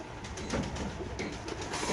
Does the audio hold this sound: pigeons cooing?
yes